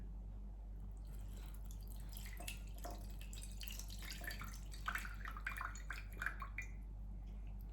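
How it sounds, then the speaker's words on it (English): Water poured into a valved face mask filter trickles and drips in quick, irregular splashes that grow busier toward the middle, faint and close over a low steady hum. "So I'll hold it like this and I'm going to pour water inside."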